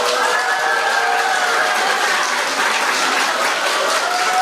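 Steady, dense applause from an audience at a public forum in Busan on relocating public institutions, a continuous wash of many hands clapping at even volume throughout.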